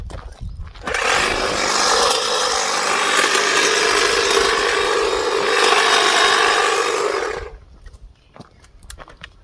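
A hedge trimmer runs loud and close for about six seconds while trimming a hedge, shaping a chamfer along the front, a steady buzzing roar that starts abruptly and then cuts off, leaving quiet outdoor ambience.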